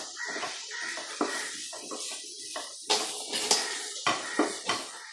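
Sliced onion sautés in a pan, stirred with a utensil that gives repeated clattering scrapes and knocks over a light sizzle, fairly close and busy throughout.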